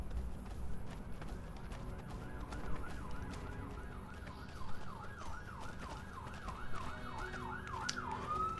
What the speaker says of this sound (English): don't mind the police car outside. Being obnoxiously loud.